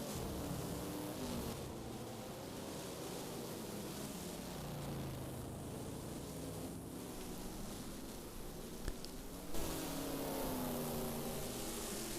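Aston Martin DBR9 race car engines in a sim racing game at Paul Ricard, faint revving and shifting pitch under a steady wash of noise, with gear changes audible.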